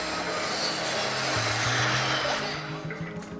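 A hijacked passenger plane lands at a military airport in a film scene, its engines giving a steady loud roar and whine that holds throughout with no talking.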